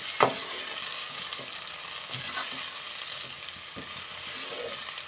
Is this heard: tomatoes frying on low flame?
yes